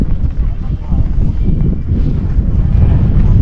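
Strong wind buffets the microphone in a steady low roar throughout at a campsite on the Mt. Olis viewpoint, Philippines, with a voice talking underneath in Filipino.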